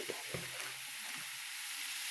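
Masala spices fry and sizzle in a pan with homemade chili powder, a steady close crackle with a few soft scrapes of stirring near the start.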